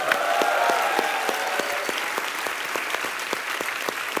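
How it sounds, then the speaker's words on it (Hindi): A studio audience at the Kapil Sharma comedy show gives loud, sustained applause that fills the room as dense steady clapping, with a brief shout near the start. "इनके लिए जोरदार तालियां हो जाए।"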